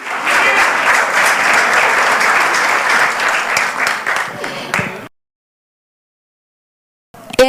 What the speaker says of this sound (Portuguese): queria que vocês dessem um aplauso maior aí